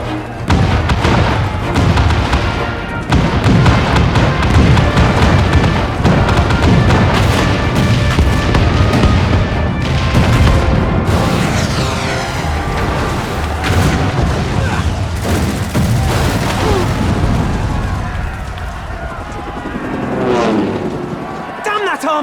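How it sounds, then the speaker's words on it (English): Cannons firing in the video game Final Fantasy XIV, a dense barrage of booming blasts and thuds layered with battle noise, loud and continuous throughout, with shouted voices mixed in. "All cannons! Fire at will!"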